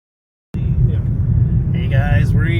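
Inside a car while driving, a low steady engine and road rumble begins abruptly after a short silence, with faint tonal whines from the cabin over the drone.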